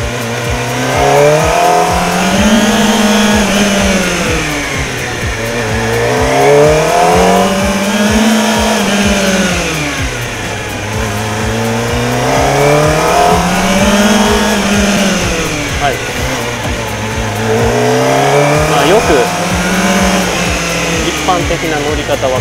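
A 250cc supersport motorcycle with low clip-on handlebars is ridden at steady road speed; the engine drones loudly and continuously, its pitch rising and falling in smooth waves as the throttle opens and closes.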